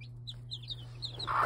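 A three-year-old hen clucking softly near her chicks, with faint high chick peeps scattered over a steady low background hum, close and quiet, over about a second and a half.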